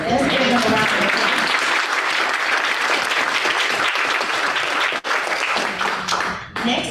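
A dense round of applause from an audience at a community conversation on Alzheimer's, held with church groups present, loud and sustained throughout with a brief dip near the end.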